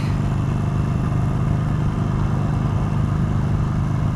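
A 2020 Harley-Davidson Sportster Iron 883 motorcycle being ridden, its engine a loud, steady low rumble that throbs evenly throughout with no voices.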